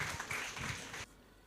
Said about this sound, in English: Ladies and gentlemen, a round of applause to Mrs.